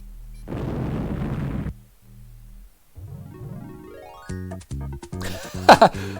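Enemy ship in Space Quest 5 firing its weapons and blowing up: a dense burst of noise, then a rising synthesized tone leading into rapid bright pops and a sharp explosive crack at the end, with no talk.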